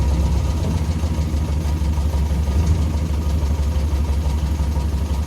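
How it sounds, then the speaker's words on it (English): An old, once-abandoned classic car idles with the choke pushed in, a steady low engine rumble holding an even pace throughout with no voices. "I'll push the choke right and just let it idle."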